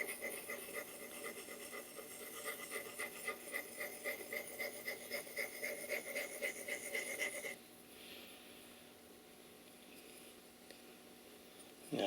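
A blade is honed in small circles on a sharpening stone, a soft rhythmic rasping strokes at a steady pace for several seconds, then stopping to a faint hiss.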